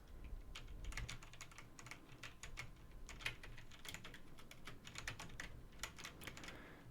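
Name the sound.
typing on a computer keyboard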